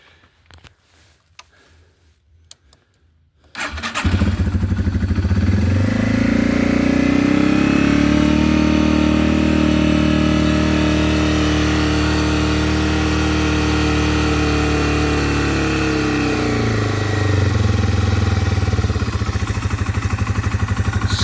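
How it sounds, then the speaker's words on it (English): Yamaha TW motorcycle engine cranked with the choke out, catching after a few quiet seconds and then idling loudly and steadily close by, with a slight rise in pitch partway through the idle. "So let's get started here by pulling out the choke and getting it started."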